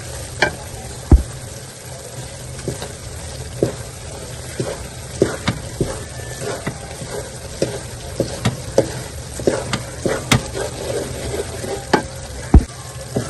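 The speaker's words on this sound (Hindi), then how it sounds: "मिक्स करेंगे और इसे उतार कर मोल्ड में डाल लेंगे।" Mysore pak mixture stirred in a pan, steady frothy sizzling with repeated sharp spatula scrapes and taps against the pan at an irregular rhythm, close and moderately loud with no talking.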